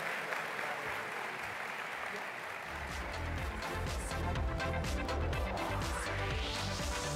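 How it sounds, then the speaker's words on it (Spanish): Audience applause welcoming a student at a national education forum, steady clapping from a crowd that continues as music swells underneath and builds toward the end. "Vamos a recibirlo con un gran aplauso"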